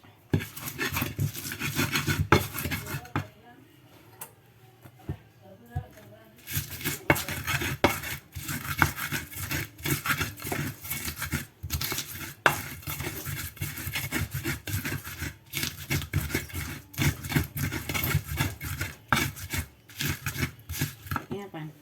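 Grinding spices with a stone mortar and pestle (ulek) in an Indonesian home kitchen, with steady rhythmic scraping and rubbing strokes, a short pause early on, then continuous close-up grinding.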